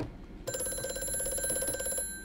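An old telephone rings in the horror game Amnesia: A Machine for Pigs: a single sustained electric bell ring with a fast buzzing tremolo, fairly quiet, starting abruptly and cutting off after about a second and a half.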